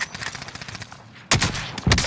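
Gunfire in a video game opens with a rapid, steady stream of automatic shots at moderate distance, then a pause, followed by two loud, close, booming blasts in quick succession.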